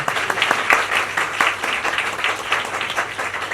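An audience applauds at a Thai official gathering, honouring a department director-general, with a steady, dense wash of many hands clapping throughout and a few sharper claps standing out near the listener.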